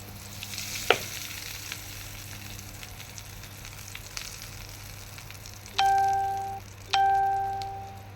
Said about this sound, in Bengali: তেলটা আমি এই মশলার মধ্যে দিয়ে দিলাম।